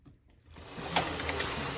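A knitting machine carriage slides across the needle bed knitting a row, a rising mechanical whirring rasp that starts after a brief quiet moment and holds steady and close.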